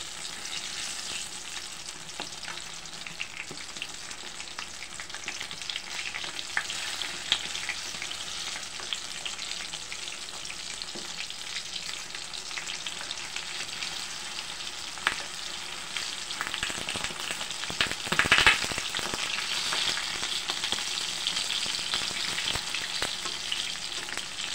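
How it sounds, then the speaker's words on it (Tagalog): Eggplant frying in hot oil gives a steady, dense sizzle that runs continuously at close range, with occasional spatters and one louder clatter of a utensil partway through. "piniprito ko na po yung talong."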